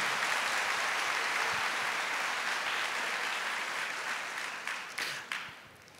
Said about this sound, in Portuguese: Pode aplaudir, porque isso é graça, isso é misericórdia